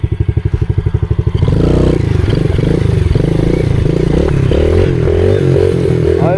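A pit bike engine on grass chugs in an even low thump, then revs hard into a loud, sustained buzzing drone that rises and wavers in pitch during a wheelie, close by, with no talking.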